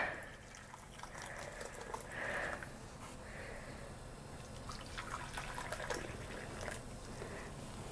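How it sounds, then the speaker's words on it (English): Hot water is poured over a paper tea bag of heather tea fannings, giving a steady, close liquid trickle and splash that runs throughout with a brief louder gurgle partway through, with no talking. "All right, let's add our water."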